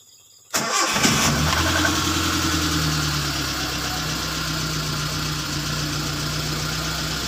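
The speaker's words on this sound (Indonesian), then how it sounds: "Sekarang kita coba cek ya, kita starter. Jadi starter sekali saja hidup." A car engine cranks briefly with the starter and catches on the first try, then settles into a steady, close idle that hums on without any voices.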